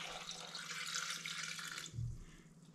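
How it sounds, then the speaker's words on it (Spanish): Star anise water pouring into a drink, a steady bright stream of liquid splashing for nearly two seconds before stopping, followed by a soft low thud. "lo que le voy a poner también, mi agua de anís estrella"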